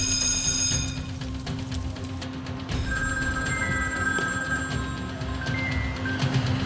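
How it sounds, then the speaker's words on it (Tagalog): A steady electric fire alarm bell rings continuously and loudly throughout during a school fire drill, with a constant droning hum beneath it and no talking. "patunugin ang fire alarm para maalerto ang lahat"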